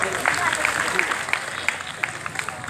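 Applause at a Republic Day function, a dense crowd clapping at moderate loudness with sharper individual claps standing out through the short stretch.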